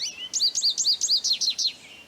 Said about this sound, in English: American goldfinch.